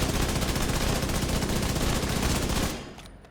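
Striker assault rifle firing full-auto in The Division 2, a loud, dense, unbroken stream of shots that cuts off abruptly just before the end, with no voices.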